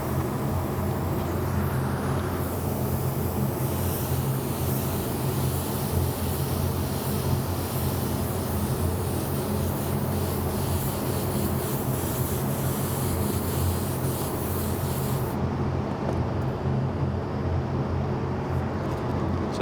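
Spray gun applying Createx AutoBorne sealer to a car body, a steady hissing air spray held continuously at close range with no pauses, stopping abruptly just before the end.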